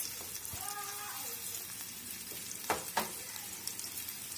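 Green chili sizzling in a pan, a quiet steady fry with a brief faint tone near the start and two sharp clinks or scrapes of a utensil partway through.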